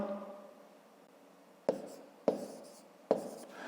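Pen strokes scratch across paper as numbers are handwritten while working a long-division problem, three distinct quick scrapes spaced about half a second apart over a quiet background.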